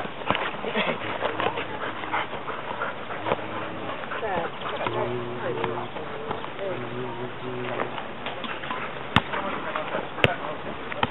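Small dogs yip and whimper while playing during a football training session, with busy voices and scuffling around them and a couple of sharp knocks near the end.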